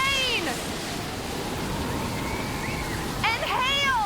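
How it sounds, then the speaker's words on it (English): A rainstorm sound effect at sea, with a steady wash of rain and surf running throughout and a couple of high squealing or creaking calls near the start and end. "There's rain"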